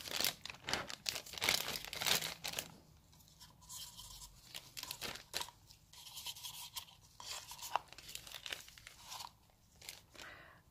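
A plastic bag crinkles and crunches close by in a quiet room during resin coaster crafting, in short irregular bursts of rustling that fade to softer handling noises.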